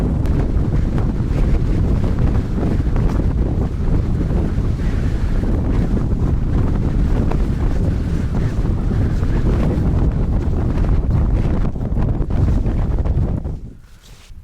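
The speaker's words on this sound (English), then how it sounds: "If you can hear me over the wind." Strong wind blasting across a snowy hill in the Cheviots during a winter camp, a loud, continuous roaring buffet on the microphone that holds steady for several seconds before suddenly dropping away at the end.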